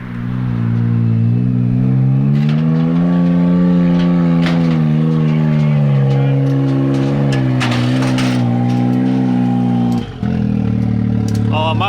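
Modified race-prepped BMW X3 engine revving hard, a loud sustained roar that rises and falls in pitch with sharp clattering peaks, briefly dropping near the end before surging again.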